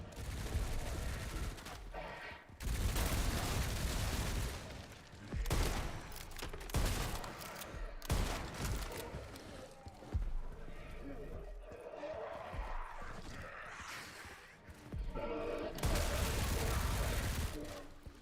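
Gunfire in the video game Resident Evil Requiem on Insanity Mode, with Leon fighting: repeated loud bursts and volleys of shots alternating with quieter gaps, under a running spoken commentary.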